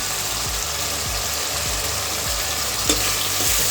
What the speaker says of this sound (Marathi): कांदा लसूण सर्व फ्राय होत आहे